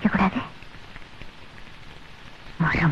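Heavy rain pours steadily in a continuous, close hiss, with brief voices speaking at the start and again at the end.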